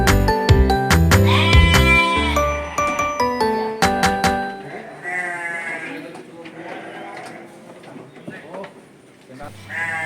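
Sheep bleat repeatedly in a crowded village pen, loud close cries overlapping with others further off, while people talk nearby.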